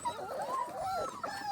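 German shorthaired pointer puppies whimper in cold, breezy weather, a string of thin, high, wavering whines and yips, fairly quiet and close, with no talk over them.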